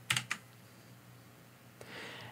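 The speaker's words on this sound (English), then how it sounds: "I'm going to go ahead and hit Command and M on my keyboard" Two or three quick computer keyboard key presses for a Command and M shortcut, crisp close clicks at the start, then a softer brief click and quiet room hiss.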